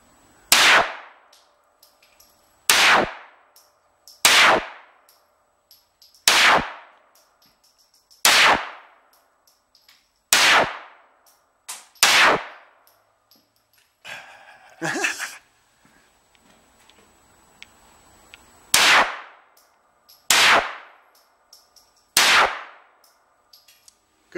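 Gunshots fired one by one at a shooting target, ten sharp cracks spaced a couple of seconds apart, each ringing with a brief metallic tail, a short rustling gap in the middle.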